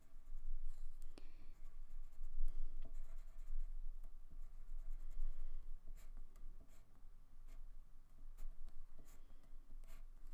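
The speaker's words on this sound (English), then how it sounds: "so I will draw on it." A pen or marker scratches steadily across yellow paper while drawing part of a scarecrow craft, a close, continuous scribbling with short strokes and pauses, no talking.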